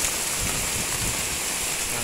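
Heavy rain pouring down in Samarinda city, a dense, loud, steady hiss of rain hitting surfaces close by, with no talking.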